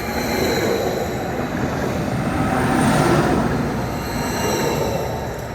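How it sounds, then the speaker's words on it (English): A passenger train bound for Yarmouth rumbling past nearby, a steady loud roar of wheels on rails swelling in the middle, with faint high squeals. "A free carriage train to Yarmouth."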